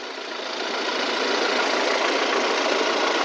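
A used Toyota car engine idles quietly and smoothly, a steady close hum that rises slightly in the first half second and then holds even, with no one speaking.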